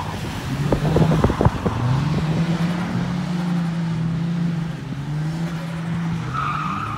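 A car's engine revs and drones steadily through a drift, with tire squeal and skidding noise at a first-time drift day; rapid bursts of throttle at first, then a sustained loud engine note.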